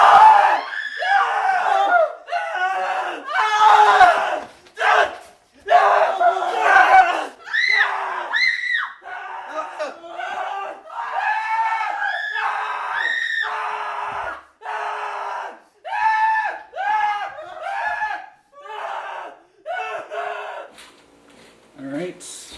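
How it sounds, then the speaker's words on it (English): Crowd of extras screaming and shouting together on a film set, loud and sustained in waves with brief pauses between bursts, close and dense throughout. "Scream as we're crossing?"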